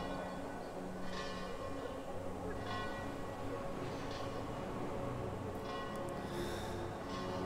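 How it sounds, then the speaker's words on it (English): Church bells ringing in the city-building game Frostpunk: The Last Autumn, steady pealing tones repeating over a dense, continuous wash of ambient game sound, with a few brighter strikes near the end. "So cool hearing the church bells."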